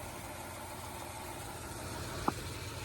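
A 1964 Ranchero engine runs steadily at idle with a new ignition, a continuous close hum with one brief tick near the end.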